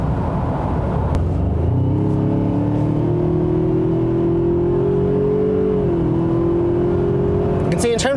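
A 2019 Ford Ranger's engine accelerates from inside the cab, its rising hum building steadily and pulling toward high revs under continuous road noise, with someone talking over it.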